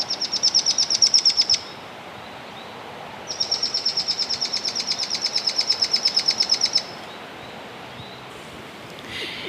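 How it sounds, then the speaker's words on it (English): Recorded mohua chatter calls play from a speaker in forest, two long bursts of rapid, buzzy chattering notes separated by a quiet pause, clear and fairly loud over soft background. "we're going to try to play some chattery calls from mohua recorded nearby"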